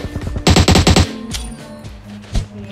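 Automatic gunfire in the mobile shooter PUBG Mobile: a loud, rapid burst of about eight shots packed into half a second, followed by a few scattered quieter shots and game sounds, with no talking.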